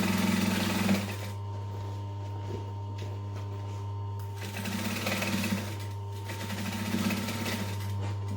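A cylinder arm sewing machine stitches around a fabric bag with a steady whirring hum and rapid needle chatter, running in several bursts with short slower stretches, close and alone.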